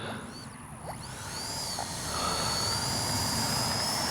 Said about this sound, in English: And great sounding little jet too.